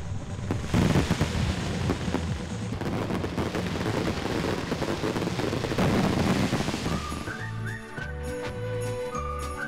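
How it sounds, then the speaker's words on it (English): Fireworks bursting in the night sky over Taebaek, a dense, continuous crackle of pops and booms with wind buffeting the microphone, fading into tinkling music at the end. "The fireworks adorn the night sky as if to celebrate our trip to Taebaek and Jeongseon."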